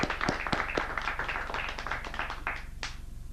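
Members of a Toastmasters club clap for themselves as the meeting is called to order, a brisk spread of individual hand claps from a small group in a room, fairly close and tapering off.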